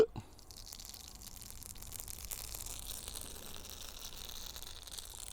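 Mustard seeds spluttering in hot sesame oil, a soft, quiet patter of small pops and drip-like crackles running continuously after a brief knock at the start.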